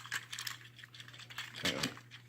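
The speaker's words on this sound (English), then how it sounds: "You'll hear it click into place." Plastic parts of a Transformers War for Cybertron Siege Leader Ultra Magnus figure snap together in a few small, sharp clicks and rattles, close and fairly quiet over a low steady hum.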